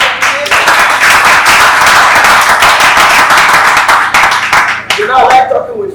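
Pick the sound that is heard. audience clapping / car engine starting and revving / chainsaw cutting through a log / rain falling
audience clapping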